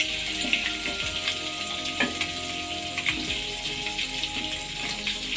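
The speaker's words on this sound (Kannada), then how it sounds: "ಮಸಾಲೆ ಎಲ್ಲ ಹಾಕಿ ಈ ಥರ ಉಲ್ಟಾ ಮಾಡಿ ಫ್ರೈ ಆಗಿದೆ." Egg masala sizzles and fries steadily in a pan, with soft scraping clicks as a spoon turns it over; close and continuous, no voices.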